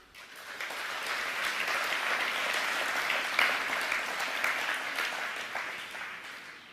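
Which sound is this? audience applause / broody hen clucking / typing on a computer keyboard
audience applause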